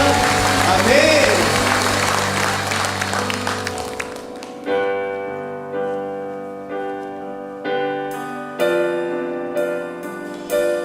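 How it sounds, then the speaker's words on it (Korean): A congregation claps during a Sunday morning church service. A dense burst of applause mixes with sustained keyboard chords and then fades as the music continues alone. "하나님께 영광의 박수 올려드리겠습니다."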